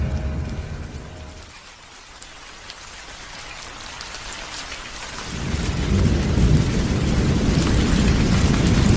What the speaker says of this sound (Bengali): বাইরে তখন প্রচন্ড ঝড় বৃষ্টি বইছে।